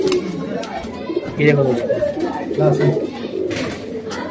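Male kalsire pigeons coo softly in short, low, repeated phrases, mixed with other bird sounds nearby, while someone talks over them.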